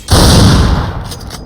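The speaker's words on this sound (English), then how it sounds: "My personal favorite was the metallic sounding boom the shotguns had." A single loud metallic shotgun boom from the first-person shooter video game Black hits sharply, then rings out in a quickly fading tail.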